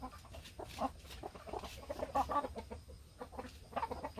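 Several chickens, including Araucana, Silkie and Korean native breeds, clucking softly and irregularly nearby while fed pumpkin, overlapping murmurs and short calls against quiet farmyard background.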